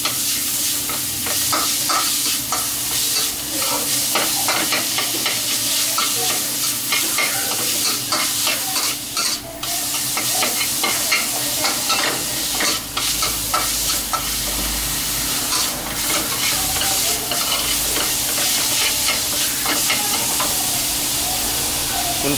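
Pork and glass noodles are stir-fried in a pan for spring roll filling, with a loud continuous sizzle and frequent scraping, clattering strokes of the spatula throughout, close up and without speech.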